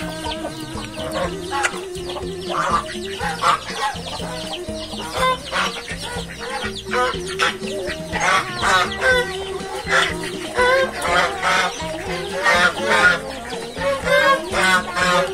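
Chickens cluck and squawk nearby in a busy, irregular chorus of overlapping calls that grow livelier and louder in the second half, with no speech.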